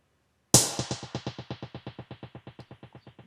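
A single sharp snare hit through the Spaced Out effect followed by a long, rhythmically fluttering reverb tail that gradually fades over a few seconds.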